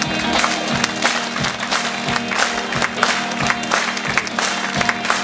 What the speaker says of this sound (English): put your hands in the air and join in and clap your hands at me